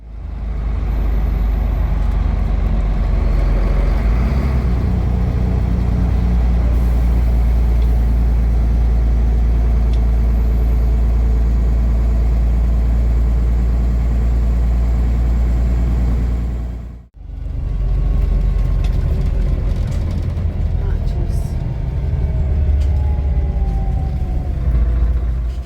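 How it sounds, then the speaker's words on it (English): An orange tram arrives at a European stop, a loud continuous low rumble with brake hiss, a brief dropout, then the heavy rolling drone resumes close by. "here comes the tram now, the orange one"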